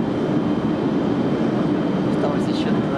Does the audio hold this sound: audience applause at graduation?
no